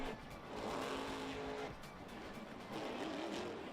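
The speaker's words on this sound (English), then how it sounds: "there's nothing like a monster truck going across buildings" A monster truck in the video game Monster Jam Battlegrounds roars along with a constant engine drone and occasional tire screech. The sound is loud and continuous, with no talking.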